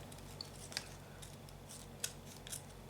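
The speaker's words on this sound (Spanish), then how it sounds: "vamos a ir cortando despacito" Scissors snip slowly through fabric backed with adhesive paper, giving a few quiet, sparse crisp cuts against a faint background hush.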